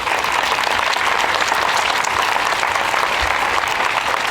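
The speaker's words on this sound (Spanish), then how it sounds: "les pido un fuerte aplauso para ella" Loud, dense applause from an outdoor audience in Plaza San Martín welcoming a speaker, a continuous bright roar of many hands clapping close by.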